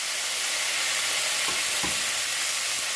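Marinated chicken hits hot oil in a pan and sizzles steadily with a loud, hissing fry, with a couple of soft clunks from stirring partway through and no talking.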